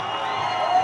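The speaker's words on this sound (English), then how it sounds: "Crowd getting excited here" A crowd at an ultimate frisbee game on a grey day in Renton raises a steady, excited cheer that swells slightly toward the end.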